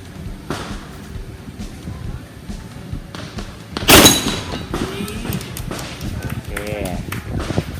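A single sharp shot from a Beretta 92 FS pistol at an outdoor shooting range, fired at the far target, loud and abrupt amid someone talking in Thai.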